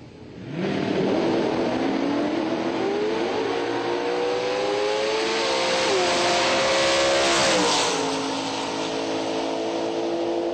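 Drag racing cars at a bracket racing event, including a propane-powered 2010 Mustang, launch with a loud sustained engine roar whose pitch climbs and shifts through gears over about ten seconds, heard alone without talk.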